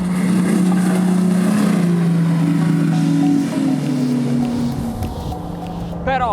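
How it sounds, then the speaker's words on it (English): A Joker Clubman 30 inflatable boat with twin 300-horsepower Yamaha outboards roars at high speed, a loud, close, sustained engine drone that sags slightly in pitch, with a voice talking over it. "I tried this dinghy with two 300 horsepower Yamahas"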